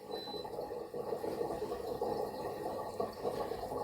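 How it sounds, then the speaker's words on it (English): Kitchen sink drain gurgling, a faint, continuous bubbling and trickling of water with soft irregular pulses in a quiet room. "the drain is gurgling and the dishwasher's beeping"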